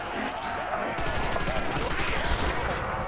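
Rapid gunfire from a Custom Zombies video game, steady and loud throughout, with a dense continuous burst of shots and faint background talk underneath.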